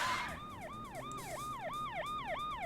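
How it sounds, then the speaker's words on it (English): A police car siren wails in repeated rising and falling sweeps from the video game Honey, I Joined a Cult, steady and fairly loud across the whole stretch with no speech. "There seem to be police sirens."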